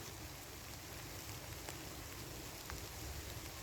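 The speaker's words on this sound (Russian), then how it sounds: "Дождь идет" Rain falls in an autumn forest as a soft, constant hiss of drops on leaves and ground, steady and fairly faint with a few sharper nearby drips and no voices.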